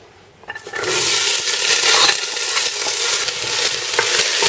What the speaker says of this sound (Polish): teraz wrzucam już tu te wszystkie drobno pokrojone